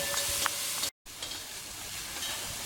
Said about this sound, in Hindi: इसको कंटिन्यूस चलाना पड़ता है और इनको हल्का सा गुलाबी कर लेंगे